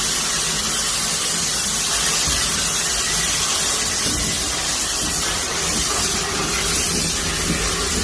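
Loud, continuous hiss of steam venting from a steam locomotive, broad and rushing, steady for several seconds with a faint rumble of machinery beneath.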